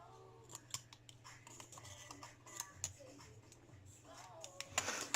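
Scissors snip vape coil leads flush with the bottom of an RDA deck, a series of sharp close-up clicking cuts and small handling noises, ending with a louder rustle.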